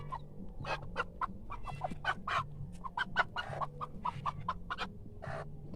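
Young 45-day-old chickens on a farm cluck and peep in a busy, irregular stream of short calls close by, with several birds overlapping over a low background murmur.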